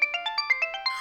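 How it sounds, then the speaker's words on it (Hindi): A phone ringtone chirps in a quick, steady electronic pulse of about nine bright beeps in one second, loud and close, with no voices over it. "अब चलो, फोन बज गया।"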